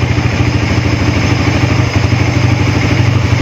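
Suzuki Raider FI 150 motorcycle engine idling steadily after an ECU reset, a loud close mechanical putter with a fast even rhythm and no talk.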